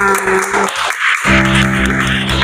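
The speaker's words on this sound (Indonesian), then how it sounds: "Tepuk tangan untuk kita semua." Applause from a classroom group, a dense burst of clapping that dips to near quiet midway and then resumes strongly, with faint voices mixed in.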